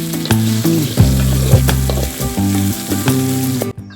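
Brinjal and green chillies fry with coriander and cumin seeds, a loud close sizzle overlaid by prominent tonal music that dominates, ending abruptly.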